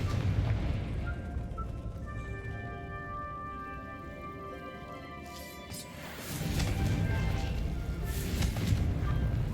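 Confringo blasting spell in Hogwarts Legacy, a deep booming explosion that erupts after a stretch of quieter tonal game ambience, rumbling loudly for several seconds.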